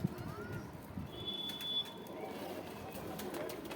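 Pigeons coo softly in the background, a low rolling murmur under faint ambient noise, with a thin whistle-like tone passing briefly.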